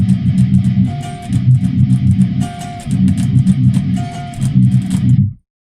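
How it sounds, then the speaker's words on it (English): Palm-muted, heavily distorted electric guitar plays the pre-breakdown riff of a metalcore song, loud chugging low notes in repeating bursts with short pauses, then cutting off abruptly at the end. "So that goes into a pre-breakdown, which sounds like this."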